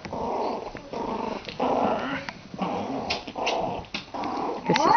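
Five-week-old puppies play-fight up close, producing a steady stream of small rough growls and snarls in repeated bursts, with a few yips and whimpers mixed in.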